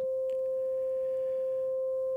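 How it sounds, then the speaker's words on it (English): A sine oscillator in Bitwig Studio with its output routed back into its input by feedback, giving a steady, clean, quiet sustained tone with a faint overtone above it, held unchanged and alone throughout. "do a yellow feedback routing to send the output back to the input, which starts in a similar fashion"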